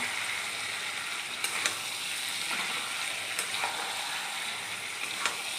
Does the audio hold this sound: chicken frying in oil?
yes